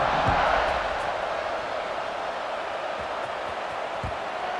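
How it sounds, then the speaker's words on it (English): A college football stadium crowd at an Arizona State vs BYU game keeps up a dense, steady roar after a score, a broad wash of many voices that stays loud throughout with a few faint thuds. "this crowd is buzzing after that last score"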